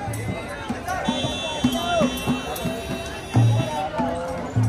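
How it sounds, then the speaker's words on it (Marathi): A dense crowd at Mahakaleshwar temple fills the air with steady close hubbub and shuffling movement, with nearby people talking over the babble. "खूप गर्दी वाटते बघा."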